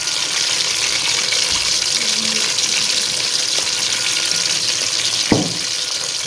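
Onions fry in ghee for masoor dal with a constant, loud, hissing crackle, and a single sharp clink near the end.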